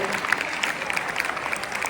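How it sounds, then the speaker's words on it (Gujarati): An audience at a high school farewell and prize distribution claps steadily as a teacher is welcomed, a dense, even wash of applause with a murmur of voices. "તાળીઓનો ગડગડાટ ચાલુ જ રાખો"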